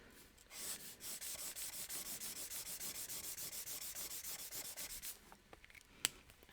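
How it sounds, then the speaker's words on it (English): An erasable marker with a chisel tip is drawn back and forth across paper close by, about five seconds of quick, even scratchy rubbing strokes, then a pause and a single sharp tap. "it says draw with the chisel tip"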